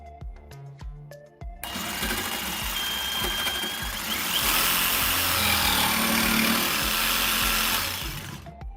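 Ryobi 18V One+ P5231 orbital jigsaw cutting, with a few clicks first, then a loud, sustained buzzing saw run that lasts several seconds and stops at the end.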